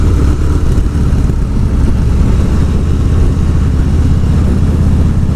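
A Harley-Davidson motorcycle engine rumbles steadily while riding, a loud, deep and even throb that holds without pause or clear revving, heard up close and alone.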